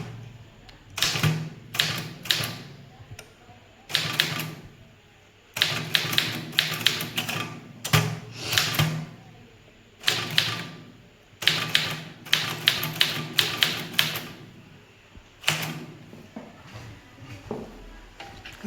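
Clusters of typewriter keystrokes in bursts with short pauses between, near and fairly loud, as an English circular letter is typed on a manual typewriter, with no talking over it.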